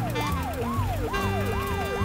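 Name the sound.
police car siren in video game Does Not Commute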